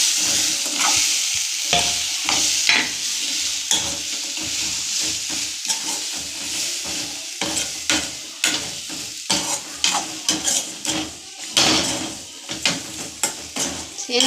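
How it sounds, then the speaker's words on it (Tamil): Elephant foot yam stir-fried with masala paste in a pan: a spatula scrapes and taps against the pan in an irregular rhythm over a continuous close sizzle. "இந்த மசாலாவோட கிண்டி மசாலா பூரா அதில் சேனக்கிழங்குல சேர்ந்தோடனே அப்படியே இறக்கிடலாம்."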